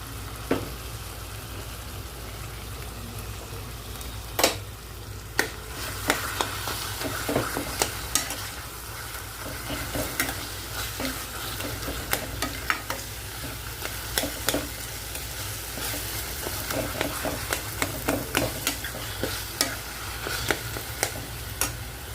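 Eggplant and tomatoes frying in a pan for Maharashtrian bharit, a steady sizzle with frequent scraping stirs and light ticking spoon knocks against the metal, continuing throughout.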